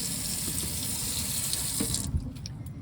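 A sink faucet running as a container fills halfway with water, a loud steady gushing stream that cuts off after about two seconds, leaving faint drips and handling clatter.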